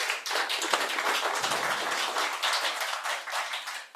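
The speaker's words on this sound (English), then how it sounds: "give you a round of applause" Applause at a division meeting for a youth award winner, a lively burst of many hands clapping nearby, dense and steady throughout with crisp individual claps.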